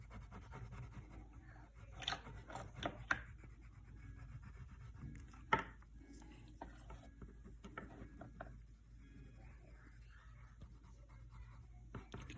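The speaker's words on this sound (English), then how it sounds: "I like Prismacolor pencils because you can do blending and not be as messy as painting with kids, especially." Prismacolor colored pencils rub and scratch softly across paper as colors are blended on a cone drawing, quiet steady strokes with occasional sharper taps, close and faint with no voices.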